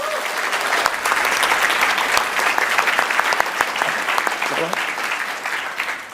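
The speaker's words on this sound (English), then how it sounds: "So give yourselves a big round of applause." Audience applause fills the hall right after the Total War: Attila announcement at EGX 2014, a dense, steady burst of clapping and cheering that holds loud and continuous throughout.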